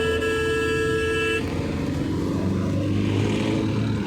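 A car engine labours steadily up a mountain highway toward Guptkashi in second gear, a continuous loud drone with a brief tonal hum early on, no talk.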